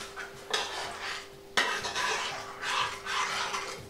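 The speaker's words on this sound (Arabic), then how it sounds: "قبل ما نشكل الكويرات غادي نمزج هاد العناصر اللي عندي هنايا" Sardine kofta ingredients stirred and mashed in a bowl, giving a steady wet scraping with sharper clinks of a utensil against the dish at intervals, close and moderately quiet, with no talking.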